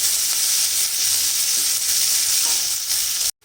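Chopped onion frying in hot oil with whole cumin and a bay leaf: a loud, steady sizzle fills the pan, close and continuous, then cuts to silence just before the end.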